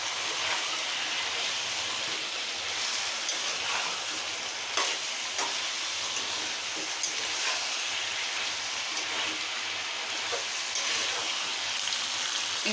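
Chicken sautéed with turmeric powder and spices in a pan for chicken kosa, a steady close sizzle broken by repeated scrapes and clacks of a spatula stirring.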